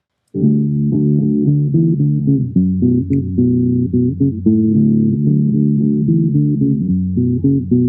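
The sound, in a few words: low-pass guitar with boosted bass frequencies, imitating bass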